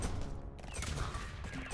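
Rumbling artillery-strike explosions in a space-themed action roguelike game, a dense, continuous low roar of blasts layered over one another without a break for nearly two seconds.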